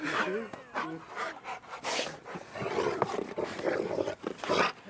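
Small dogs growl and snarl in rough, rumbling bursts, close by and fairly quiet, with brief pauses and snuffling breaths between growls.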